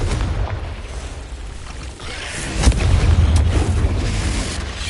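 Fire-blasting Confringo spell explosions in Hogwarts Legacy, a deep booming blast around the middle of a dense, continuous roar of game effects, loud and close, with no speech.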